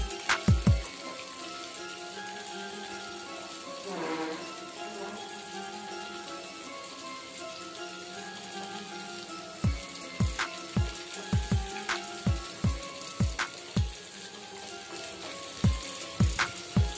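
A cheese-filled snack fries in hot oil with a constant low sizzle, punctuated by bursts of sharp crackling pops near the beginning and again in the later half.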